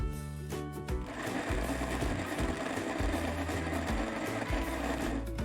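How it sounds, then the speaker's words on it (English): An electric blender's mincer attachment grinds meat with a steady, loud motor whir and a rhythmic mechanical chatter, running close and continuous with no voices. "The mincer can be used to mince meat."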